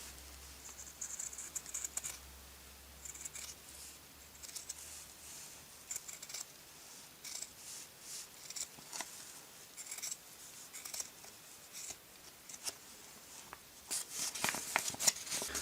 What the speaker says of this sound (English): I'm now going to get my scissors and carefully cut around this pattern